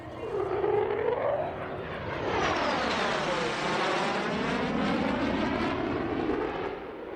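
A loud F-35 fighter jet with its F-135 engine, 43,000 pounds of thrust, roars past at an air show, a broad rushing jet noise swelling and sustained, with a shifting whine as it passes close.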